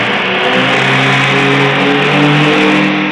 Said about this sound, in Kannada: ಬೈಕ್ ಸೌಂಡ್ ಮಾಡಿದ್ರು ಅದಕ್ಕೆ ಫುಲ್ ಅಂಜಿಬಿಟ್ಟ